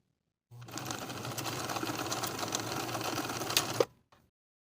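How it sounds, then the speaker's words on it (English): A sewing machine stitches darts on a V-neck top with ruffle sleeves, sewing from the fabric edge to the point in one steady, continuous whirring run of about three seconds that ends abruptly, with no talking. "Sew from the outside edge to the point, leaving thread tails at the point so you can tie them in knots."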